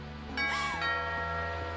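A doorbell ringing inside the video game What Remains of Edith Finch: a clear two-tone chime, ringing out over a steady low background hum.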